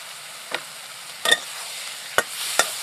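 Maggi noodles tossed with soy sauce, butter and garlic in a hot pan: a soft sizzle with a few sharp scraping stirs of a utensil, close and with no one talking.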